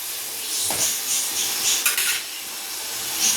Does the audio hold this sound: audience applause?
no